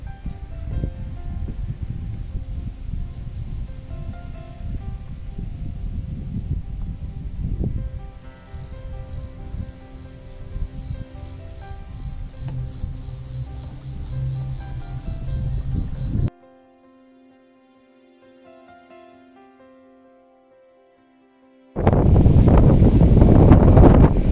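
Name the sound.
strong gusty wind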